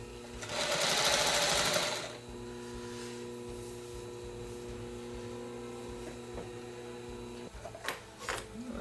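A Consew 99 industrial sewing machine stitching in a loud burst of about a second and a half, then quiet motor hum with a steady whine, followed by a few faint knocks near the end.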